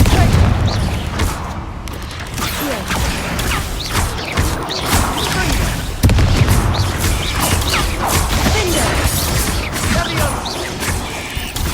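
Explosion spells Confringo and Bombarda go off in Hogwarts Legacy as a rapid series of loud, punchy blasts and crashes, one after another with little pause, over busy combat noise.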